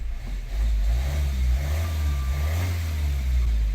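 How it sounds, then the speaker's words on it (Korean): A car with a Hyundai-Kia R diesel engine cranks and catches after a fuel filter cartridge replacement, settling into a steady low, loud idle rumble close by. "이렇게 시동이 걸리게 됩니다"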